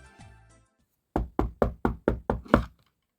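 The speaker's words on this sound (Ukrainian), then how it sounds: "Ой, хтось стукає." Seven sharp knocks on a door come in an even, quick rhythm, loud and close, after a brief bit of soft background sound.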